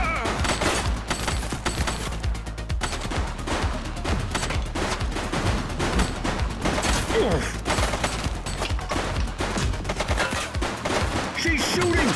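Dense gunfire from The Precinct, a police video game, as rapid shots crack and overlap in a sustained fusillade over a steady background bed, with occasional voices underneath.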